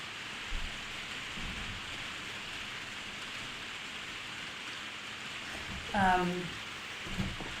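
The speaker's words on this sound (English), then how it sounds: "Sorry about the rain. It's hammering it down now." Steady hiss of heavy rain pouring down throughout, with a brief voice rising over it near the end.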